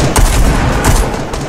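Gunfire in Fortnite, two loud, close bursts of rapid shots about half a second apart, ringing over a dense, noisy game background.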